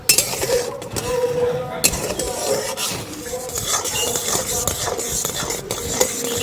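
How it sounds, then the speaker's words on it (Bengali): Mango pulp and sugar being stirred in a pan, with close scraping and clinking of a spoon against metal, irregular knocks and rubbing strokes in a busy, continuous rhythm. "এইভাবে অনবরত কিন্তু নাড়তে হবে নাড়া বন্ধ করা যাবে না"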